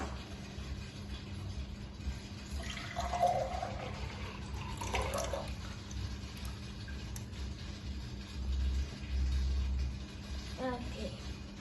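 Water is poured from one container into another, a soft, steady trickle with a faint splash, alone and fairly quiet against low background hum.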